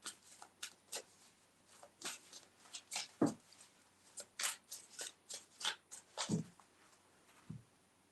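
Tarot cards are shuffled softly by hand. Faint, close rustles and light slaps come in a loose, uneven rhythm, with a few duller thumps mixed in.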